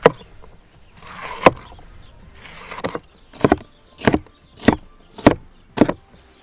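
A knife dices bell peppers on a board in a run of sharp, evenly spaced strikes, close and crisp, with softer scraping between the first few cuts.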